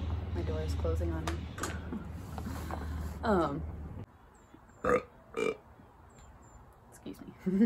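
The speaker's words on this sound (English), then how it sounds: "Gosh, I keep burping." A man burps during work on a skoolie bus conversion, a low rumbling eructation over the first four seconds, followed after a pause by a couple of shorter bursts that sound like more small burps.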